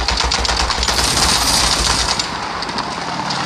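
Sustained gunfire in the World War Hero video game, a dense, continuous rattle of rapid shots that stays loud throughout and eases slightly toward the end, with no voices over it.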